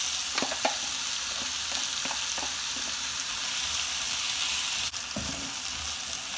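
Ground masala for mutton biryani sautés in a hot pan, a steady broad sizzle with occasional stirring scrapes and one sharp knock against the pan.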